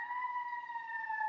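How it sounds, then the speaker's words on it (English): Steady two-tone emergency vehicle siren wailing outside, close and loud, holding a continuous pitch through the whole moment with no talk over it. "I'm sorry about these sirens, over to Jordan"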